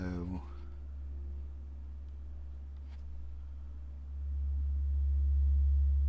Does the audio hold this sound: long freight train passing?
no